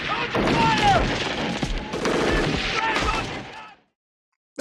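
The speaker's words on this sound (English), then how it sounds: "He's got a gun! Go! Open fire!" Gunfire in a scene from the film Nightbreed: a dense volley of overlapping shots and booms with shouting voices mixed in, loud for several seconds before cutting to silence.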